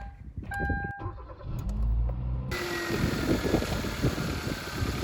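A car engine that had stalled starts and settles into a steady idle in a garage after a few brief tones and clicks, running evenly at moderate level with no talk.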